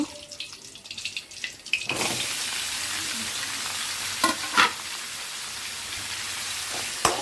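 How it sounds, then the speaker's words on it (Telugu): Chopped onions tipped into a hot pan for onion chutney, then stirred: a sudden loud sizzle that settles into steady frying hiss, with scattered spoon scrapes and clinks. "ఆనియన్స్ వేసుకొని బాగా కలుపుకోవాలండి."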